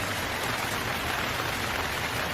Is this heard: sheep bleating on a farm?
no